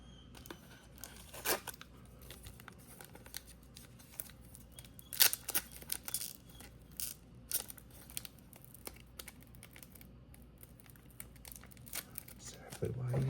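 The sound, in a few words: scissors cutting card packaging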